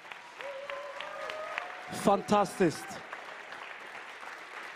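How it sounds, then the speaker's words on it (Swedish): An audience applauds at a Sunday church service, with a steady wash of clapping heard under someone speaking, who briefly exclaims over it. "Ge dem en stor applåd."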